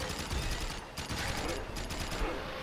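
Rapid bursts of gunfire and bullet impacts from Jak & Daxter: The Lost Frontier, crackling steadily through the whole stretch at a busy, fairly loud level with game effects layered in.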